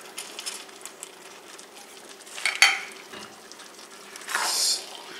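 Sliced black olives from a small can being folded into chili in a pot over medium-low heat, giving soft intermittent stirring scrapes with a louder swish near the end, close and fairly quiet.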